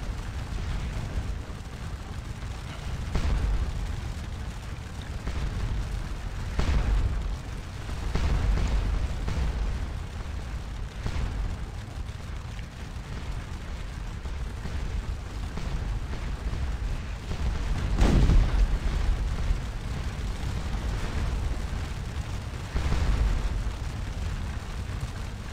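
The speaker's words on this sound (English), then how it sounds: "my artillery is still inflicting a lot of casualties" Artillery fire in the Napoleonic war game Scourge of War Waterloo, at the Battle of Ligny: deep, rumbling cannon booms go off every few seconds over a continuous low battlefield roar, some close and heavy, others more distant, with no talking.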